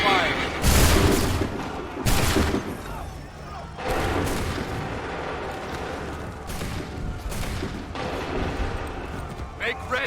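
Volleys of massed musket fire in Assassin's Creed 3 crash out as several loud, broad bursts spaced a second or two apart, with rumbling echoes and battle noise filling the gaps.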